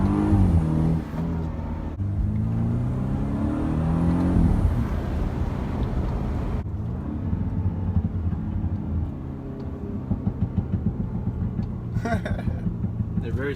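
A modified 2016 BMW F32 428i with a Bootmod3 flash drives along, its engine droning and rising under acceleration while the exhaust crackles and pops in quick bursts, with people talking over it inside the car.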